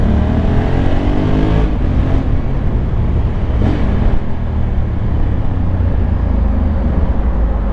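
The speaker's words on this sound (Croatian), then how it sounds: "ima dobar tvornički zvuk, ono klasika parallel twin, sad ćete malo čut" A 2021 Honda Africa Twin 1100 Adventure Sports with a parallel-twin engine, riding through a tunnel full of cars. A loud, dense, echoing roar of engine and traffic holds steady the whole time.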